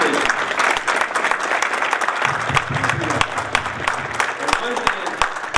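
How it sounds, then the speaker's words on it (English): An audience at a village board of trustees meeting applauds two departing trustees, a dense burst of clapping that thins toward the end into scattered claps, with some talking mixed in underneath. "I think we should applaud you for being up here for public service for 12 years and 8 years"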